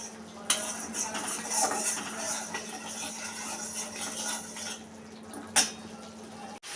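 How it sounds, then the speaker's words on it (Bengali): Spices with turmeric and salt are stirred and sautéed in a pan, with close metal spatula clinks and scraping against the pan over a soft background sizzle and two sharper knocks. "মশলাগুলো এবার আমি ভালো করে কষিয়ে নেবো"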